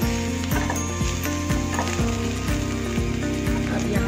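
Cauliflower fries in a pan with a steady, dense sizzle, overlaid by a regular mechanical clicking about twice per second, with no voices.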